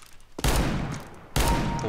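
R8 revolver fired in the video game Counter-Strike, two loud sharp shots about a second apart, each with a ringing decay.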